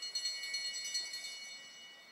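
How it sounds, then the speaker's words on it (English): At a velodrome track cycling omnium race, a bell rings for the final lap in a string of rapid, thin, faint strokes heard from a distance over the arena ambience. "They get the bell again."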